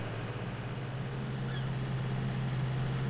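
A tractor engine in the Farming Simulator 19 video game drones steadily, a constant low hum with no breaks, heard alone without talk.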